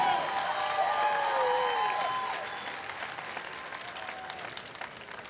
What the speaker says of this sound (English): please give one more round of applause for the Rock Hill High School Band.